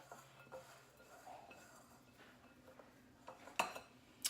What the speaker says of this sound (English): We're gonna go ahead and give this just a little mix real quick.